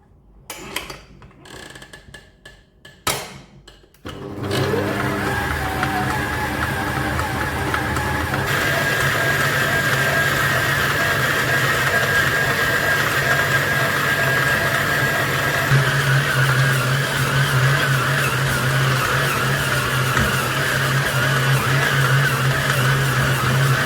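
Electric dough kneading machine working atta dough for chapati, puri and paratha, a steady mechanical whir and hum running continuously and close after a few brief knocks at the start.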